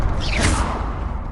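A fire spell cast in the video game Hogwarts Legacy: one quick, loud swishing whoosh that swells and fades within about a second, with no talk over it.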